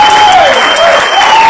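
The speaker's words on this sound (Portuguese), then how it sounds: "Ele está ali sentado com o pessoal da esquerda que o aplaude efusivamente." A leftist audience applauds effusively in dense, continuous clapping, loud and close, with a faint wavering tone running underneath.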